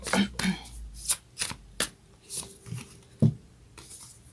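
Moonology oracle cards being shuffled by hand in a quiet room, a series of crisp riffling and slapping bursts at an uneven rhythm, close and fairly clear.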